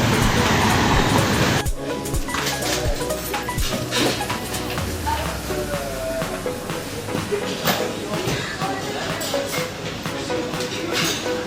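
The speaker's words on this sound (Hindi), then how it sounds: "ये ऊपर मेट्रो स्टेशन का जो अपना मेट्रो का लाइन है।" A Bangkok metro train rumbles along an elevated line overhead, a broad rolling roar that swells after a loud onset and continues with rattling and screeching beneath street noise.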